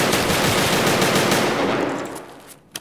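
Rapid automatic gunfire from the Escape From Tarkov video game, a dense burst of repeated shots in fast rhythm lasting a couple of seconds before fading, followed by a single small click near the end.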